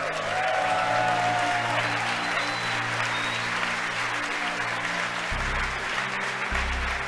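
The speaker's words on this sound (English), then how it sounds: "You can hear the applause behind me as we've gotten past maximum dynamic" Applause fills SpaceX mission control during a Falcon Heavy launch, a steady, dense wash of clapping that carries throughout, with a low equipment hum underneath.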